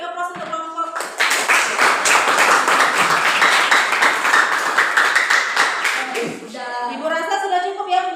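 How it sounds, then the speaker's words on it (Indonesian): Classroom of students claps for a presenting group after a chemistry explanation, several seconds of lively, close, uneven clapping framed by a teacher's voice before and after. "Beri aplaus untuk kelompok."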